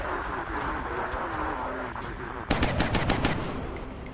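A close, rapid burst of automatic gunfire erupts partway through, following a stretch of muffled voices and background game noise in the turn-based strategy game XCOM: Enemy Unknown.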